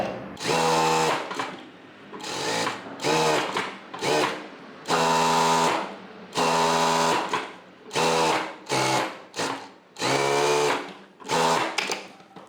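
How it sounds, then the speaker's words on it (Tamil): A sewing machine stitches a blouse during tailoring training, running in close, loud bursts of fast mechanical whirring separated by short pauses. "இப்போ சுற்றி தையல் போட்டுட்டு டாட் பிடிச்சிடலாம்"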